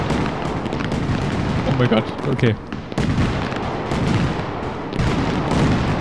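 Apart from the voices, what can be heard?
fireworks exploding in Fireworks Simulator video game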